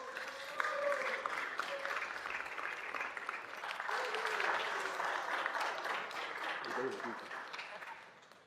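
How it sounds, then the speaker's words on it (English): Applause from a crowd at an Africa Day celebration in LA City Hall, dense sustained clapping with cheers and voices mixed in, holding steady for several seconds before tapering at the end. "Yes, a round of applause."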